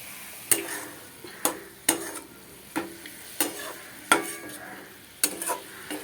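Spices with coriander powder are stirred in a hot pan, with about seven distinct scraping, clanking strokes of a spoon over a soft, quiet sizzle.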